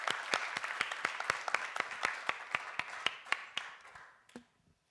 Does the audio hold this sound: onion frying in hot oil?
no